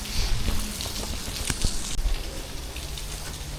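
Steady rain pattering on surfaces around a building in Türkiye, a dense, even hiss of drops with a few sharper taps, heard up close without talk.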